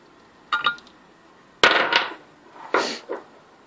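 Three sharp metallic taps of an 8mm drill bit's shank knocking out a retaining ring from a connector, spaced about a second apart, each ringing briefly in a quiet room.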